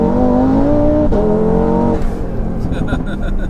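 A 740bhp Audi RS3 accelerates hard with a loud rising engine note that drops at a gear change and then climbs again, heard from close by inside the cabin.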